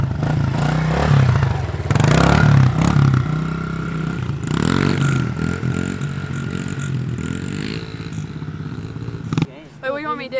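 A Honda pit bike on a supercross track, its small engine revving and buzzing in uneven bursts with clattering mechanical noise, mixed with people talking nearby.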